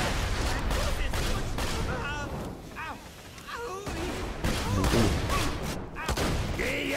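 Rapid gunfire bursts crackle in a Borderlands 2 co-op firefight, repeated shots overlapping with game effects and people talking throughout.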